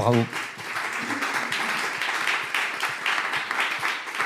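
An audience at a French business webinar on co-ownership charge management applauds after a testimonial. A voice is heard briefly at the very start, then steady, dense clapping continues at moderate loudness to the end.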